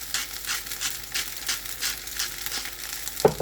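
Garlic rice frying in a pan with salt and garlic flakes, a steady close sizzle with soft crackling and occasional stirring scrapes throughout, and a brief sharper clink near the end.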